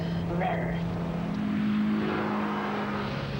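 A Peugeot 306 GTI-6's 2-litre, 167 bhp engine revs hard, its droning note holding and shifting slightly in pitch under a loud, steady engine and road roar, with a voice speaking over it.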